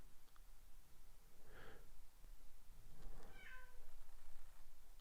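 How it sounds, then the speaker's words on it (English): Cats meowing while waiting for feeding time, two faint, drawn-out meows a couple of seconds apart over quiet room hiss, with no talk. "Oh, my cats are so upset."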